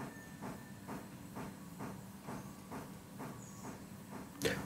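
A train pushes a wagon along in the game Railroader, with steam chuffs puffing in an even, moderate rhythm over a low hissing rumble, ending in a brief sharp burst of steam.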